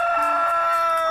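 A rooster crows in one sustained, strongly tonal call, loud and close, with no other sounds.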